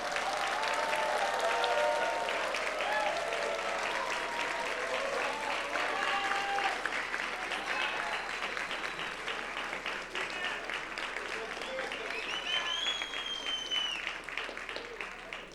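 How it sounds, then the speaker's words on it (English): Long, steady applause from a large commencement audience thanking family and friends, dense clapping with cheers and whoops rising above it and voices mingling throughout. "I want to have you give a big round of applause of thanks"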